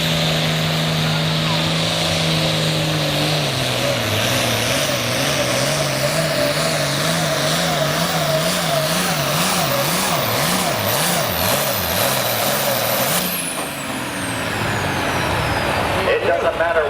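An antique tractor at a truck and tractor pull roars with a loud, sustained engine drone whose pitch wavers and pulses throughout, before abruptly dropping off near the end.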